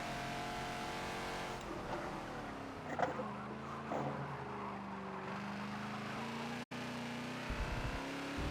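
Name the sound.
race car passing in Forza video game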